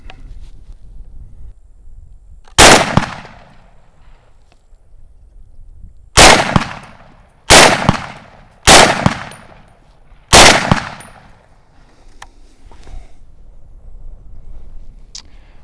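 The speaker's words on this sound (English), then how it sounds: "and again, shooting unsuppressed." Desert Tech MDRX rifle fired unsuppressed: five loud, sharp shots stand alone, one single report followed after a pause by four more at uneven intervals of about a second or two, each with a brief ringing decay.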